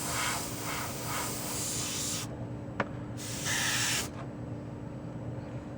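A Mr. Hobby Procon Boy PS-290 broad-coverage airbrush sprays paint in close hissing bursts, the first several seconds long and a second shorter one, separated by a quiet air hiss and a small click.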